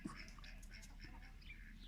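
A neighbour's duck quacks faintly in the distance in scattered short calls, set against a steady background hum with faint murmur around it.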